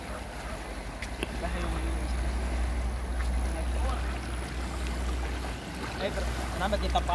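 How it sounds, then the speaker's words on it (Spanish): Strong river rapids rush and churn steadily around a boat, a continuous low roar of moving water, while people's voices chatter faintly over the flow. "Está fuerte la chorrera"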